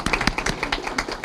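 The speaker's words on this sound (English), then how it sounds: "there's the applause" Sparse clapping from a small group at a city council meeting, welcoming an emergency management and volunteer services team, heard as brief, uneven close hand claps.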